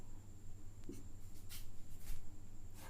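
Chalk or marker writing on a classroom board during a physics lecture on units and measurement, a few faint scratchy strokes over steady room hum, with no talking.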